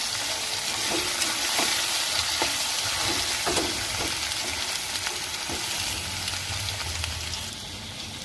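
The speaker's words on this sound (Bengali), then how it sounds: "এবার এই আলুগুলোকে একটু ভাজা ভাজা করব," Cut potatoes frying in oil with whole spices, a steady loud sizzle with intermittent scraping strokes of a spatula, easing slightly toward the end.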